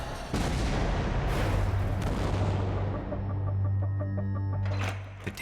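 An explosive charge blasts against a tank's steel plate in 1943 WWII army footage, a loud close boom followed by a rumbling, crackling roar that slowly fades away.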